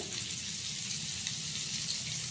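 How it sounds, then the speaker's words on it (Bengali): Bread toasting in melted butter in a pan, a steady soft sizzle with fine crackling hiss, faint and continuous with no talking. "আমি বাটার দিয়ে ব্রেডগুলোকে ভালোভাবে টপি সেঁকে নেব"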